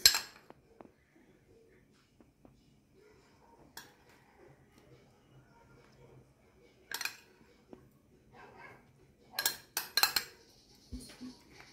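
Dishes and utensils clink while butter garlic shrimp with cheese is plated, a few sharp scattered taps and a denser cluster of clatter near the end, over a quiet background.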